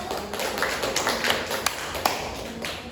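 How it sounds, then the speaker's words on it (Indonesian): Scattered, light clapping from a classroom of students applauding a presentation group, soft and uneven with a few sharper individual claps standing out. "Tepuk tangan untuk kelompok 1"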